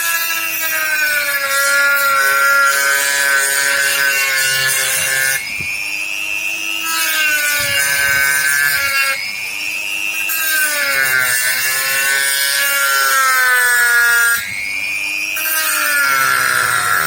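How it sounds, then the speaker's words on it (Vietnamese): A saw cuts through wood in long, steady strokes with a high rasping whine, pausing briefly between passes, loud and close. "bây giờ mình chỉ cưa theo cái đường mình đánh dấu thôi"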